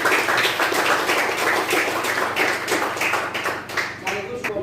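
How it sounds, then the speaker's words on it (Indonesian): Classroom applause for a student group, a dense, loud patter of many hands clapping steadily for several seconds before thinning out, with voices mixed in. "kita berikan aplaus untuk kelompok 1"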